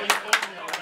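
At a women's open doubles final at a national championship, a small crowd gives a few scattered claps, three quick bursts in under a second, moderately loud and brief.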